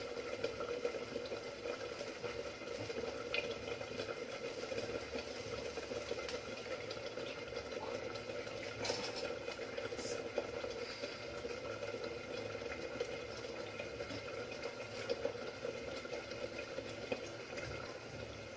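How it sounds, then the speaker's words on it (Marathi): Brinjal curry gravy simmers in a pot with a steady, soft bubbling hiss that holds evenly for about eighteen seconds, close and fairly quiet, with no voices. "उकळी आलेली आहे"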